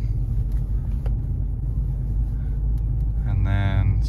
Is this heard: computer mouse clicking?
no